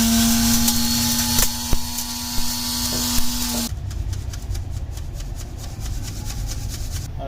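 An electric grinder whirs loudly for a few seconds while grinding herbal medicine ingredients with a steady whine, then cuts off and leaves a rough rubbing, scraping noise. No one speaks.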